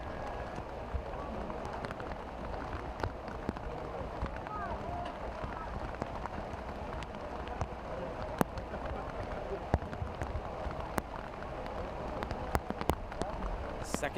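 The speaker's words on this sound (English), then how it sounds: "There is the rain coming down pretty good." Heavy rain pours steadily over an outdoor soccer match at night, a dense continuous hiss with scattered sharper drops and clicks, while a commentator's voice talks over it.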